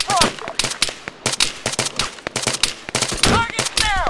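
Rapid bursts of rifle and machine-gun fire crackle in Arma 3 combat, shots in irregular volleys near and far, with occasional whizzing and ricochet-like sweeps cutting through the clatter.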